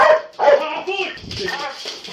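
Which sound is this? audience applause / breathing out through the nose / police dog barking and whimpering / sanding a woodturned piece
police dog barking and whimpering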